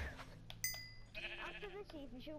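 A cow moos in the Minecraft video game, a short nasal bleating call heard close, with people talking over the game sounds.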